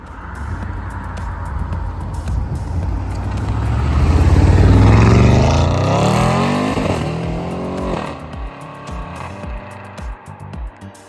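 An Audi RS7 with a Revo Stage 2 tune of over 700 horsepower and a Milltek exhaust accelerates hard, climbing through the revs with rising engine pitch, then shifts and pulls again, loud and heard from inside the car.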